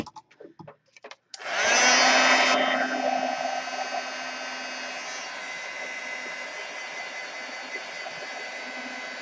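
A hair dryer switches on after a few clicks and blows steadily, loud at first and then settling to a constant whooshing hum while drying a regal craft frame.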